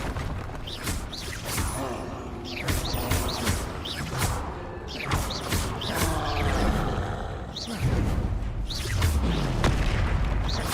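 Bombarda spell blasts in the Hogwarts Legacy video game land as repeated booming explosions, mixed with other spell effects and a voice in the background.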